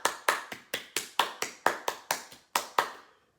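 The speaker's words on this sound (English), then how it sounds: "And a little clapping right in front of the heart." Light hand clapping in front of the chest: about a dozen crisp, close claps in a steady, slightly uneven rhythm, ending after roughly three seconds.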